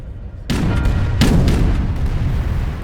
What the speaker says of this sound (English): More explosions are happening.